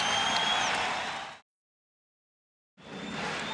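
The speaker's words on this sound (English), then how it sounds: "The crowd responding to the good start by the LA Lakers." Arena crowd at a 1991 NBA Finals game between the Chicago Bulls and LA Lakers, cheering and applauding the Lakers, a broad roar that cuts off abruptly and then returns.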